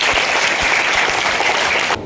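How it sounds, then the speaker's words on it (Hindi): An audience claps loudly for a district-level official at a community nutrition campaign event at a girls' school in India, a dense burst of applause that cuts off abruptly near the end. "एक बार इनके लिए जोरदार ताली बजाएं"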